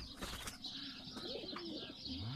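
A pigeon perched on a neighbouring house roof coos in soft, rolling calls on a windy, overcast day, with brief wing-flap noise and background wind hiss.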